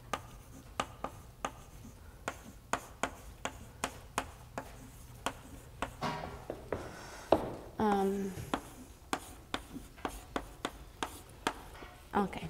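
Chalk or marker tapping and scratching on a board during a physics lecture, a steady run of sharp clicks and strokes with a brief burst of voice partway through.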